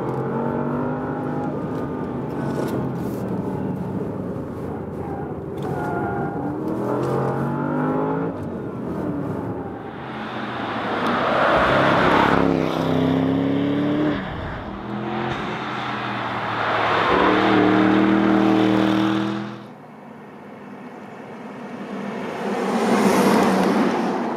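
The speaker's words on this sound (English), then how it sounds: "enjoy the last corners here with me with squeaking tires" A Porsche Panamera Turbo S Hybrid driven hard through racetrack corners, its engine rising and falling loudly and close, with surging revs and a droning whine between accelerations.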